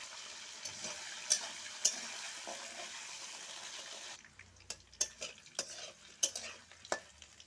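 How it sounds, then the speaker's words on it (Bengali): Potatoes fry in a pan with bay leaves and panch phoron spices, a steady close sizzle at first, then sharp scraping clinks of a spatula stirring against the pan as the hiss thins out. "পাঁচফোড়ন সময় দিব আর দুটো তেজপাতা সাথে দিব আলুটা একটু ভেজে নেব"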